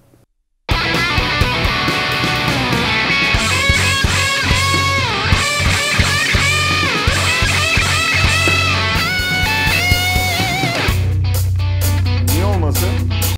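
Distorted electric guitar solo leads over a full band with drums and bass, bending and sustaining notes loudly throughout.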